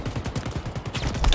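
Rapid bursts of automatic gunfire in a video game on a Big Team Battle map, a quick rhythmic string of shots at moderate volume with no talking.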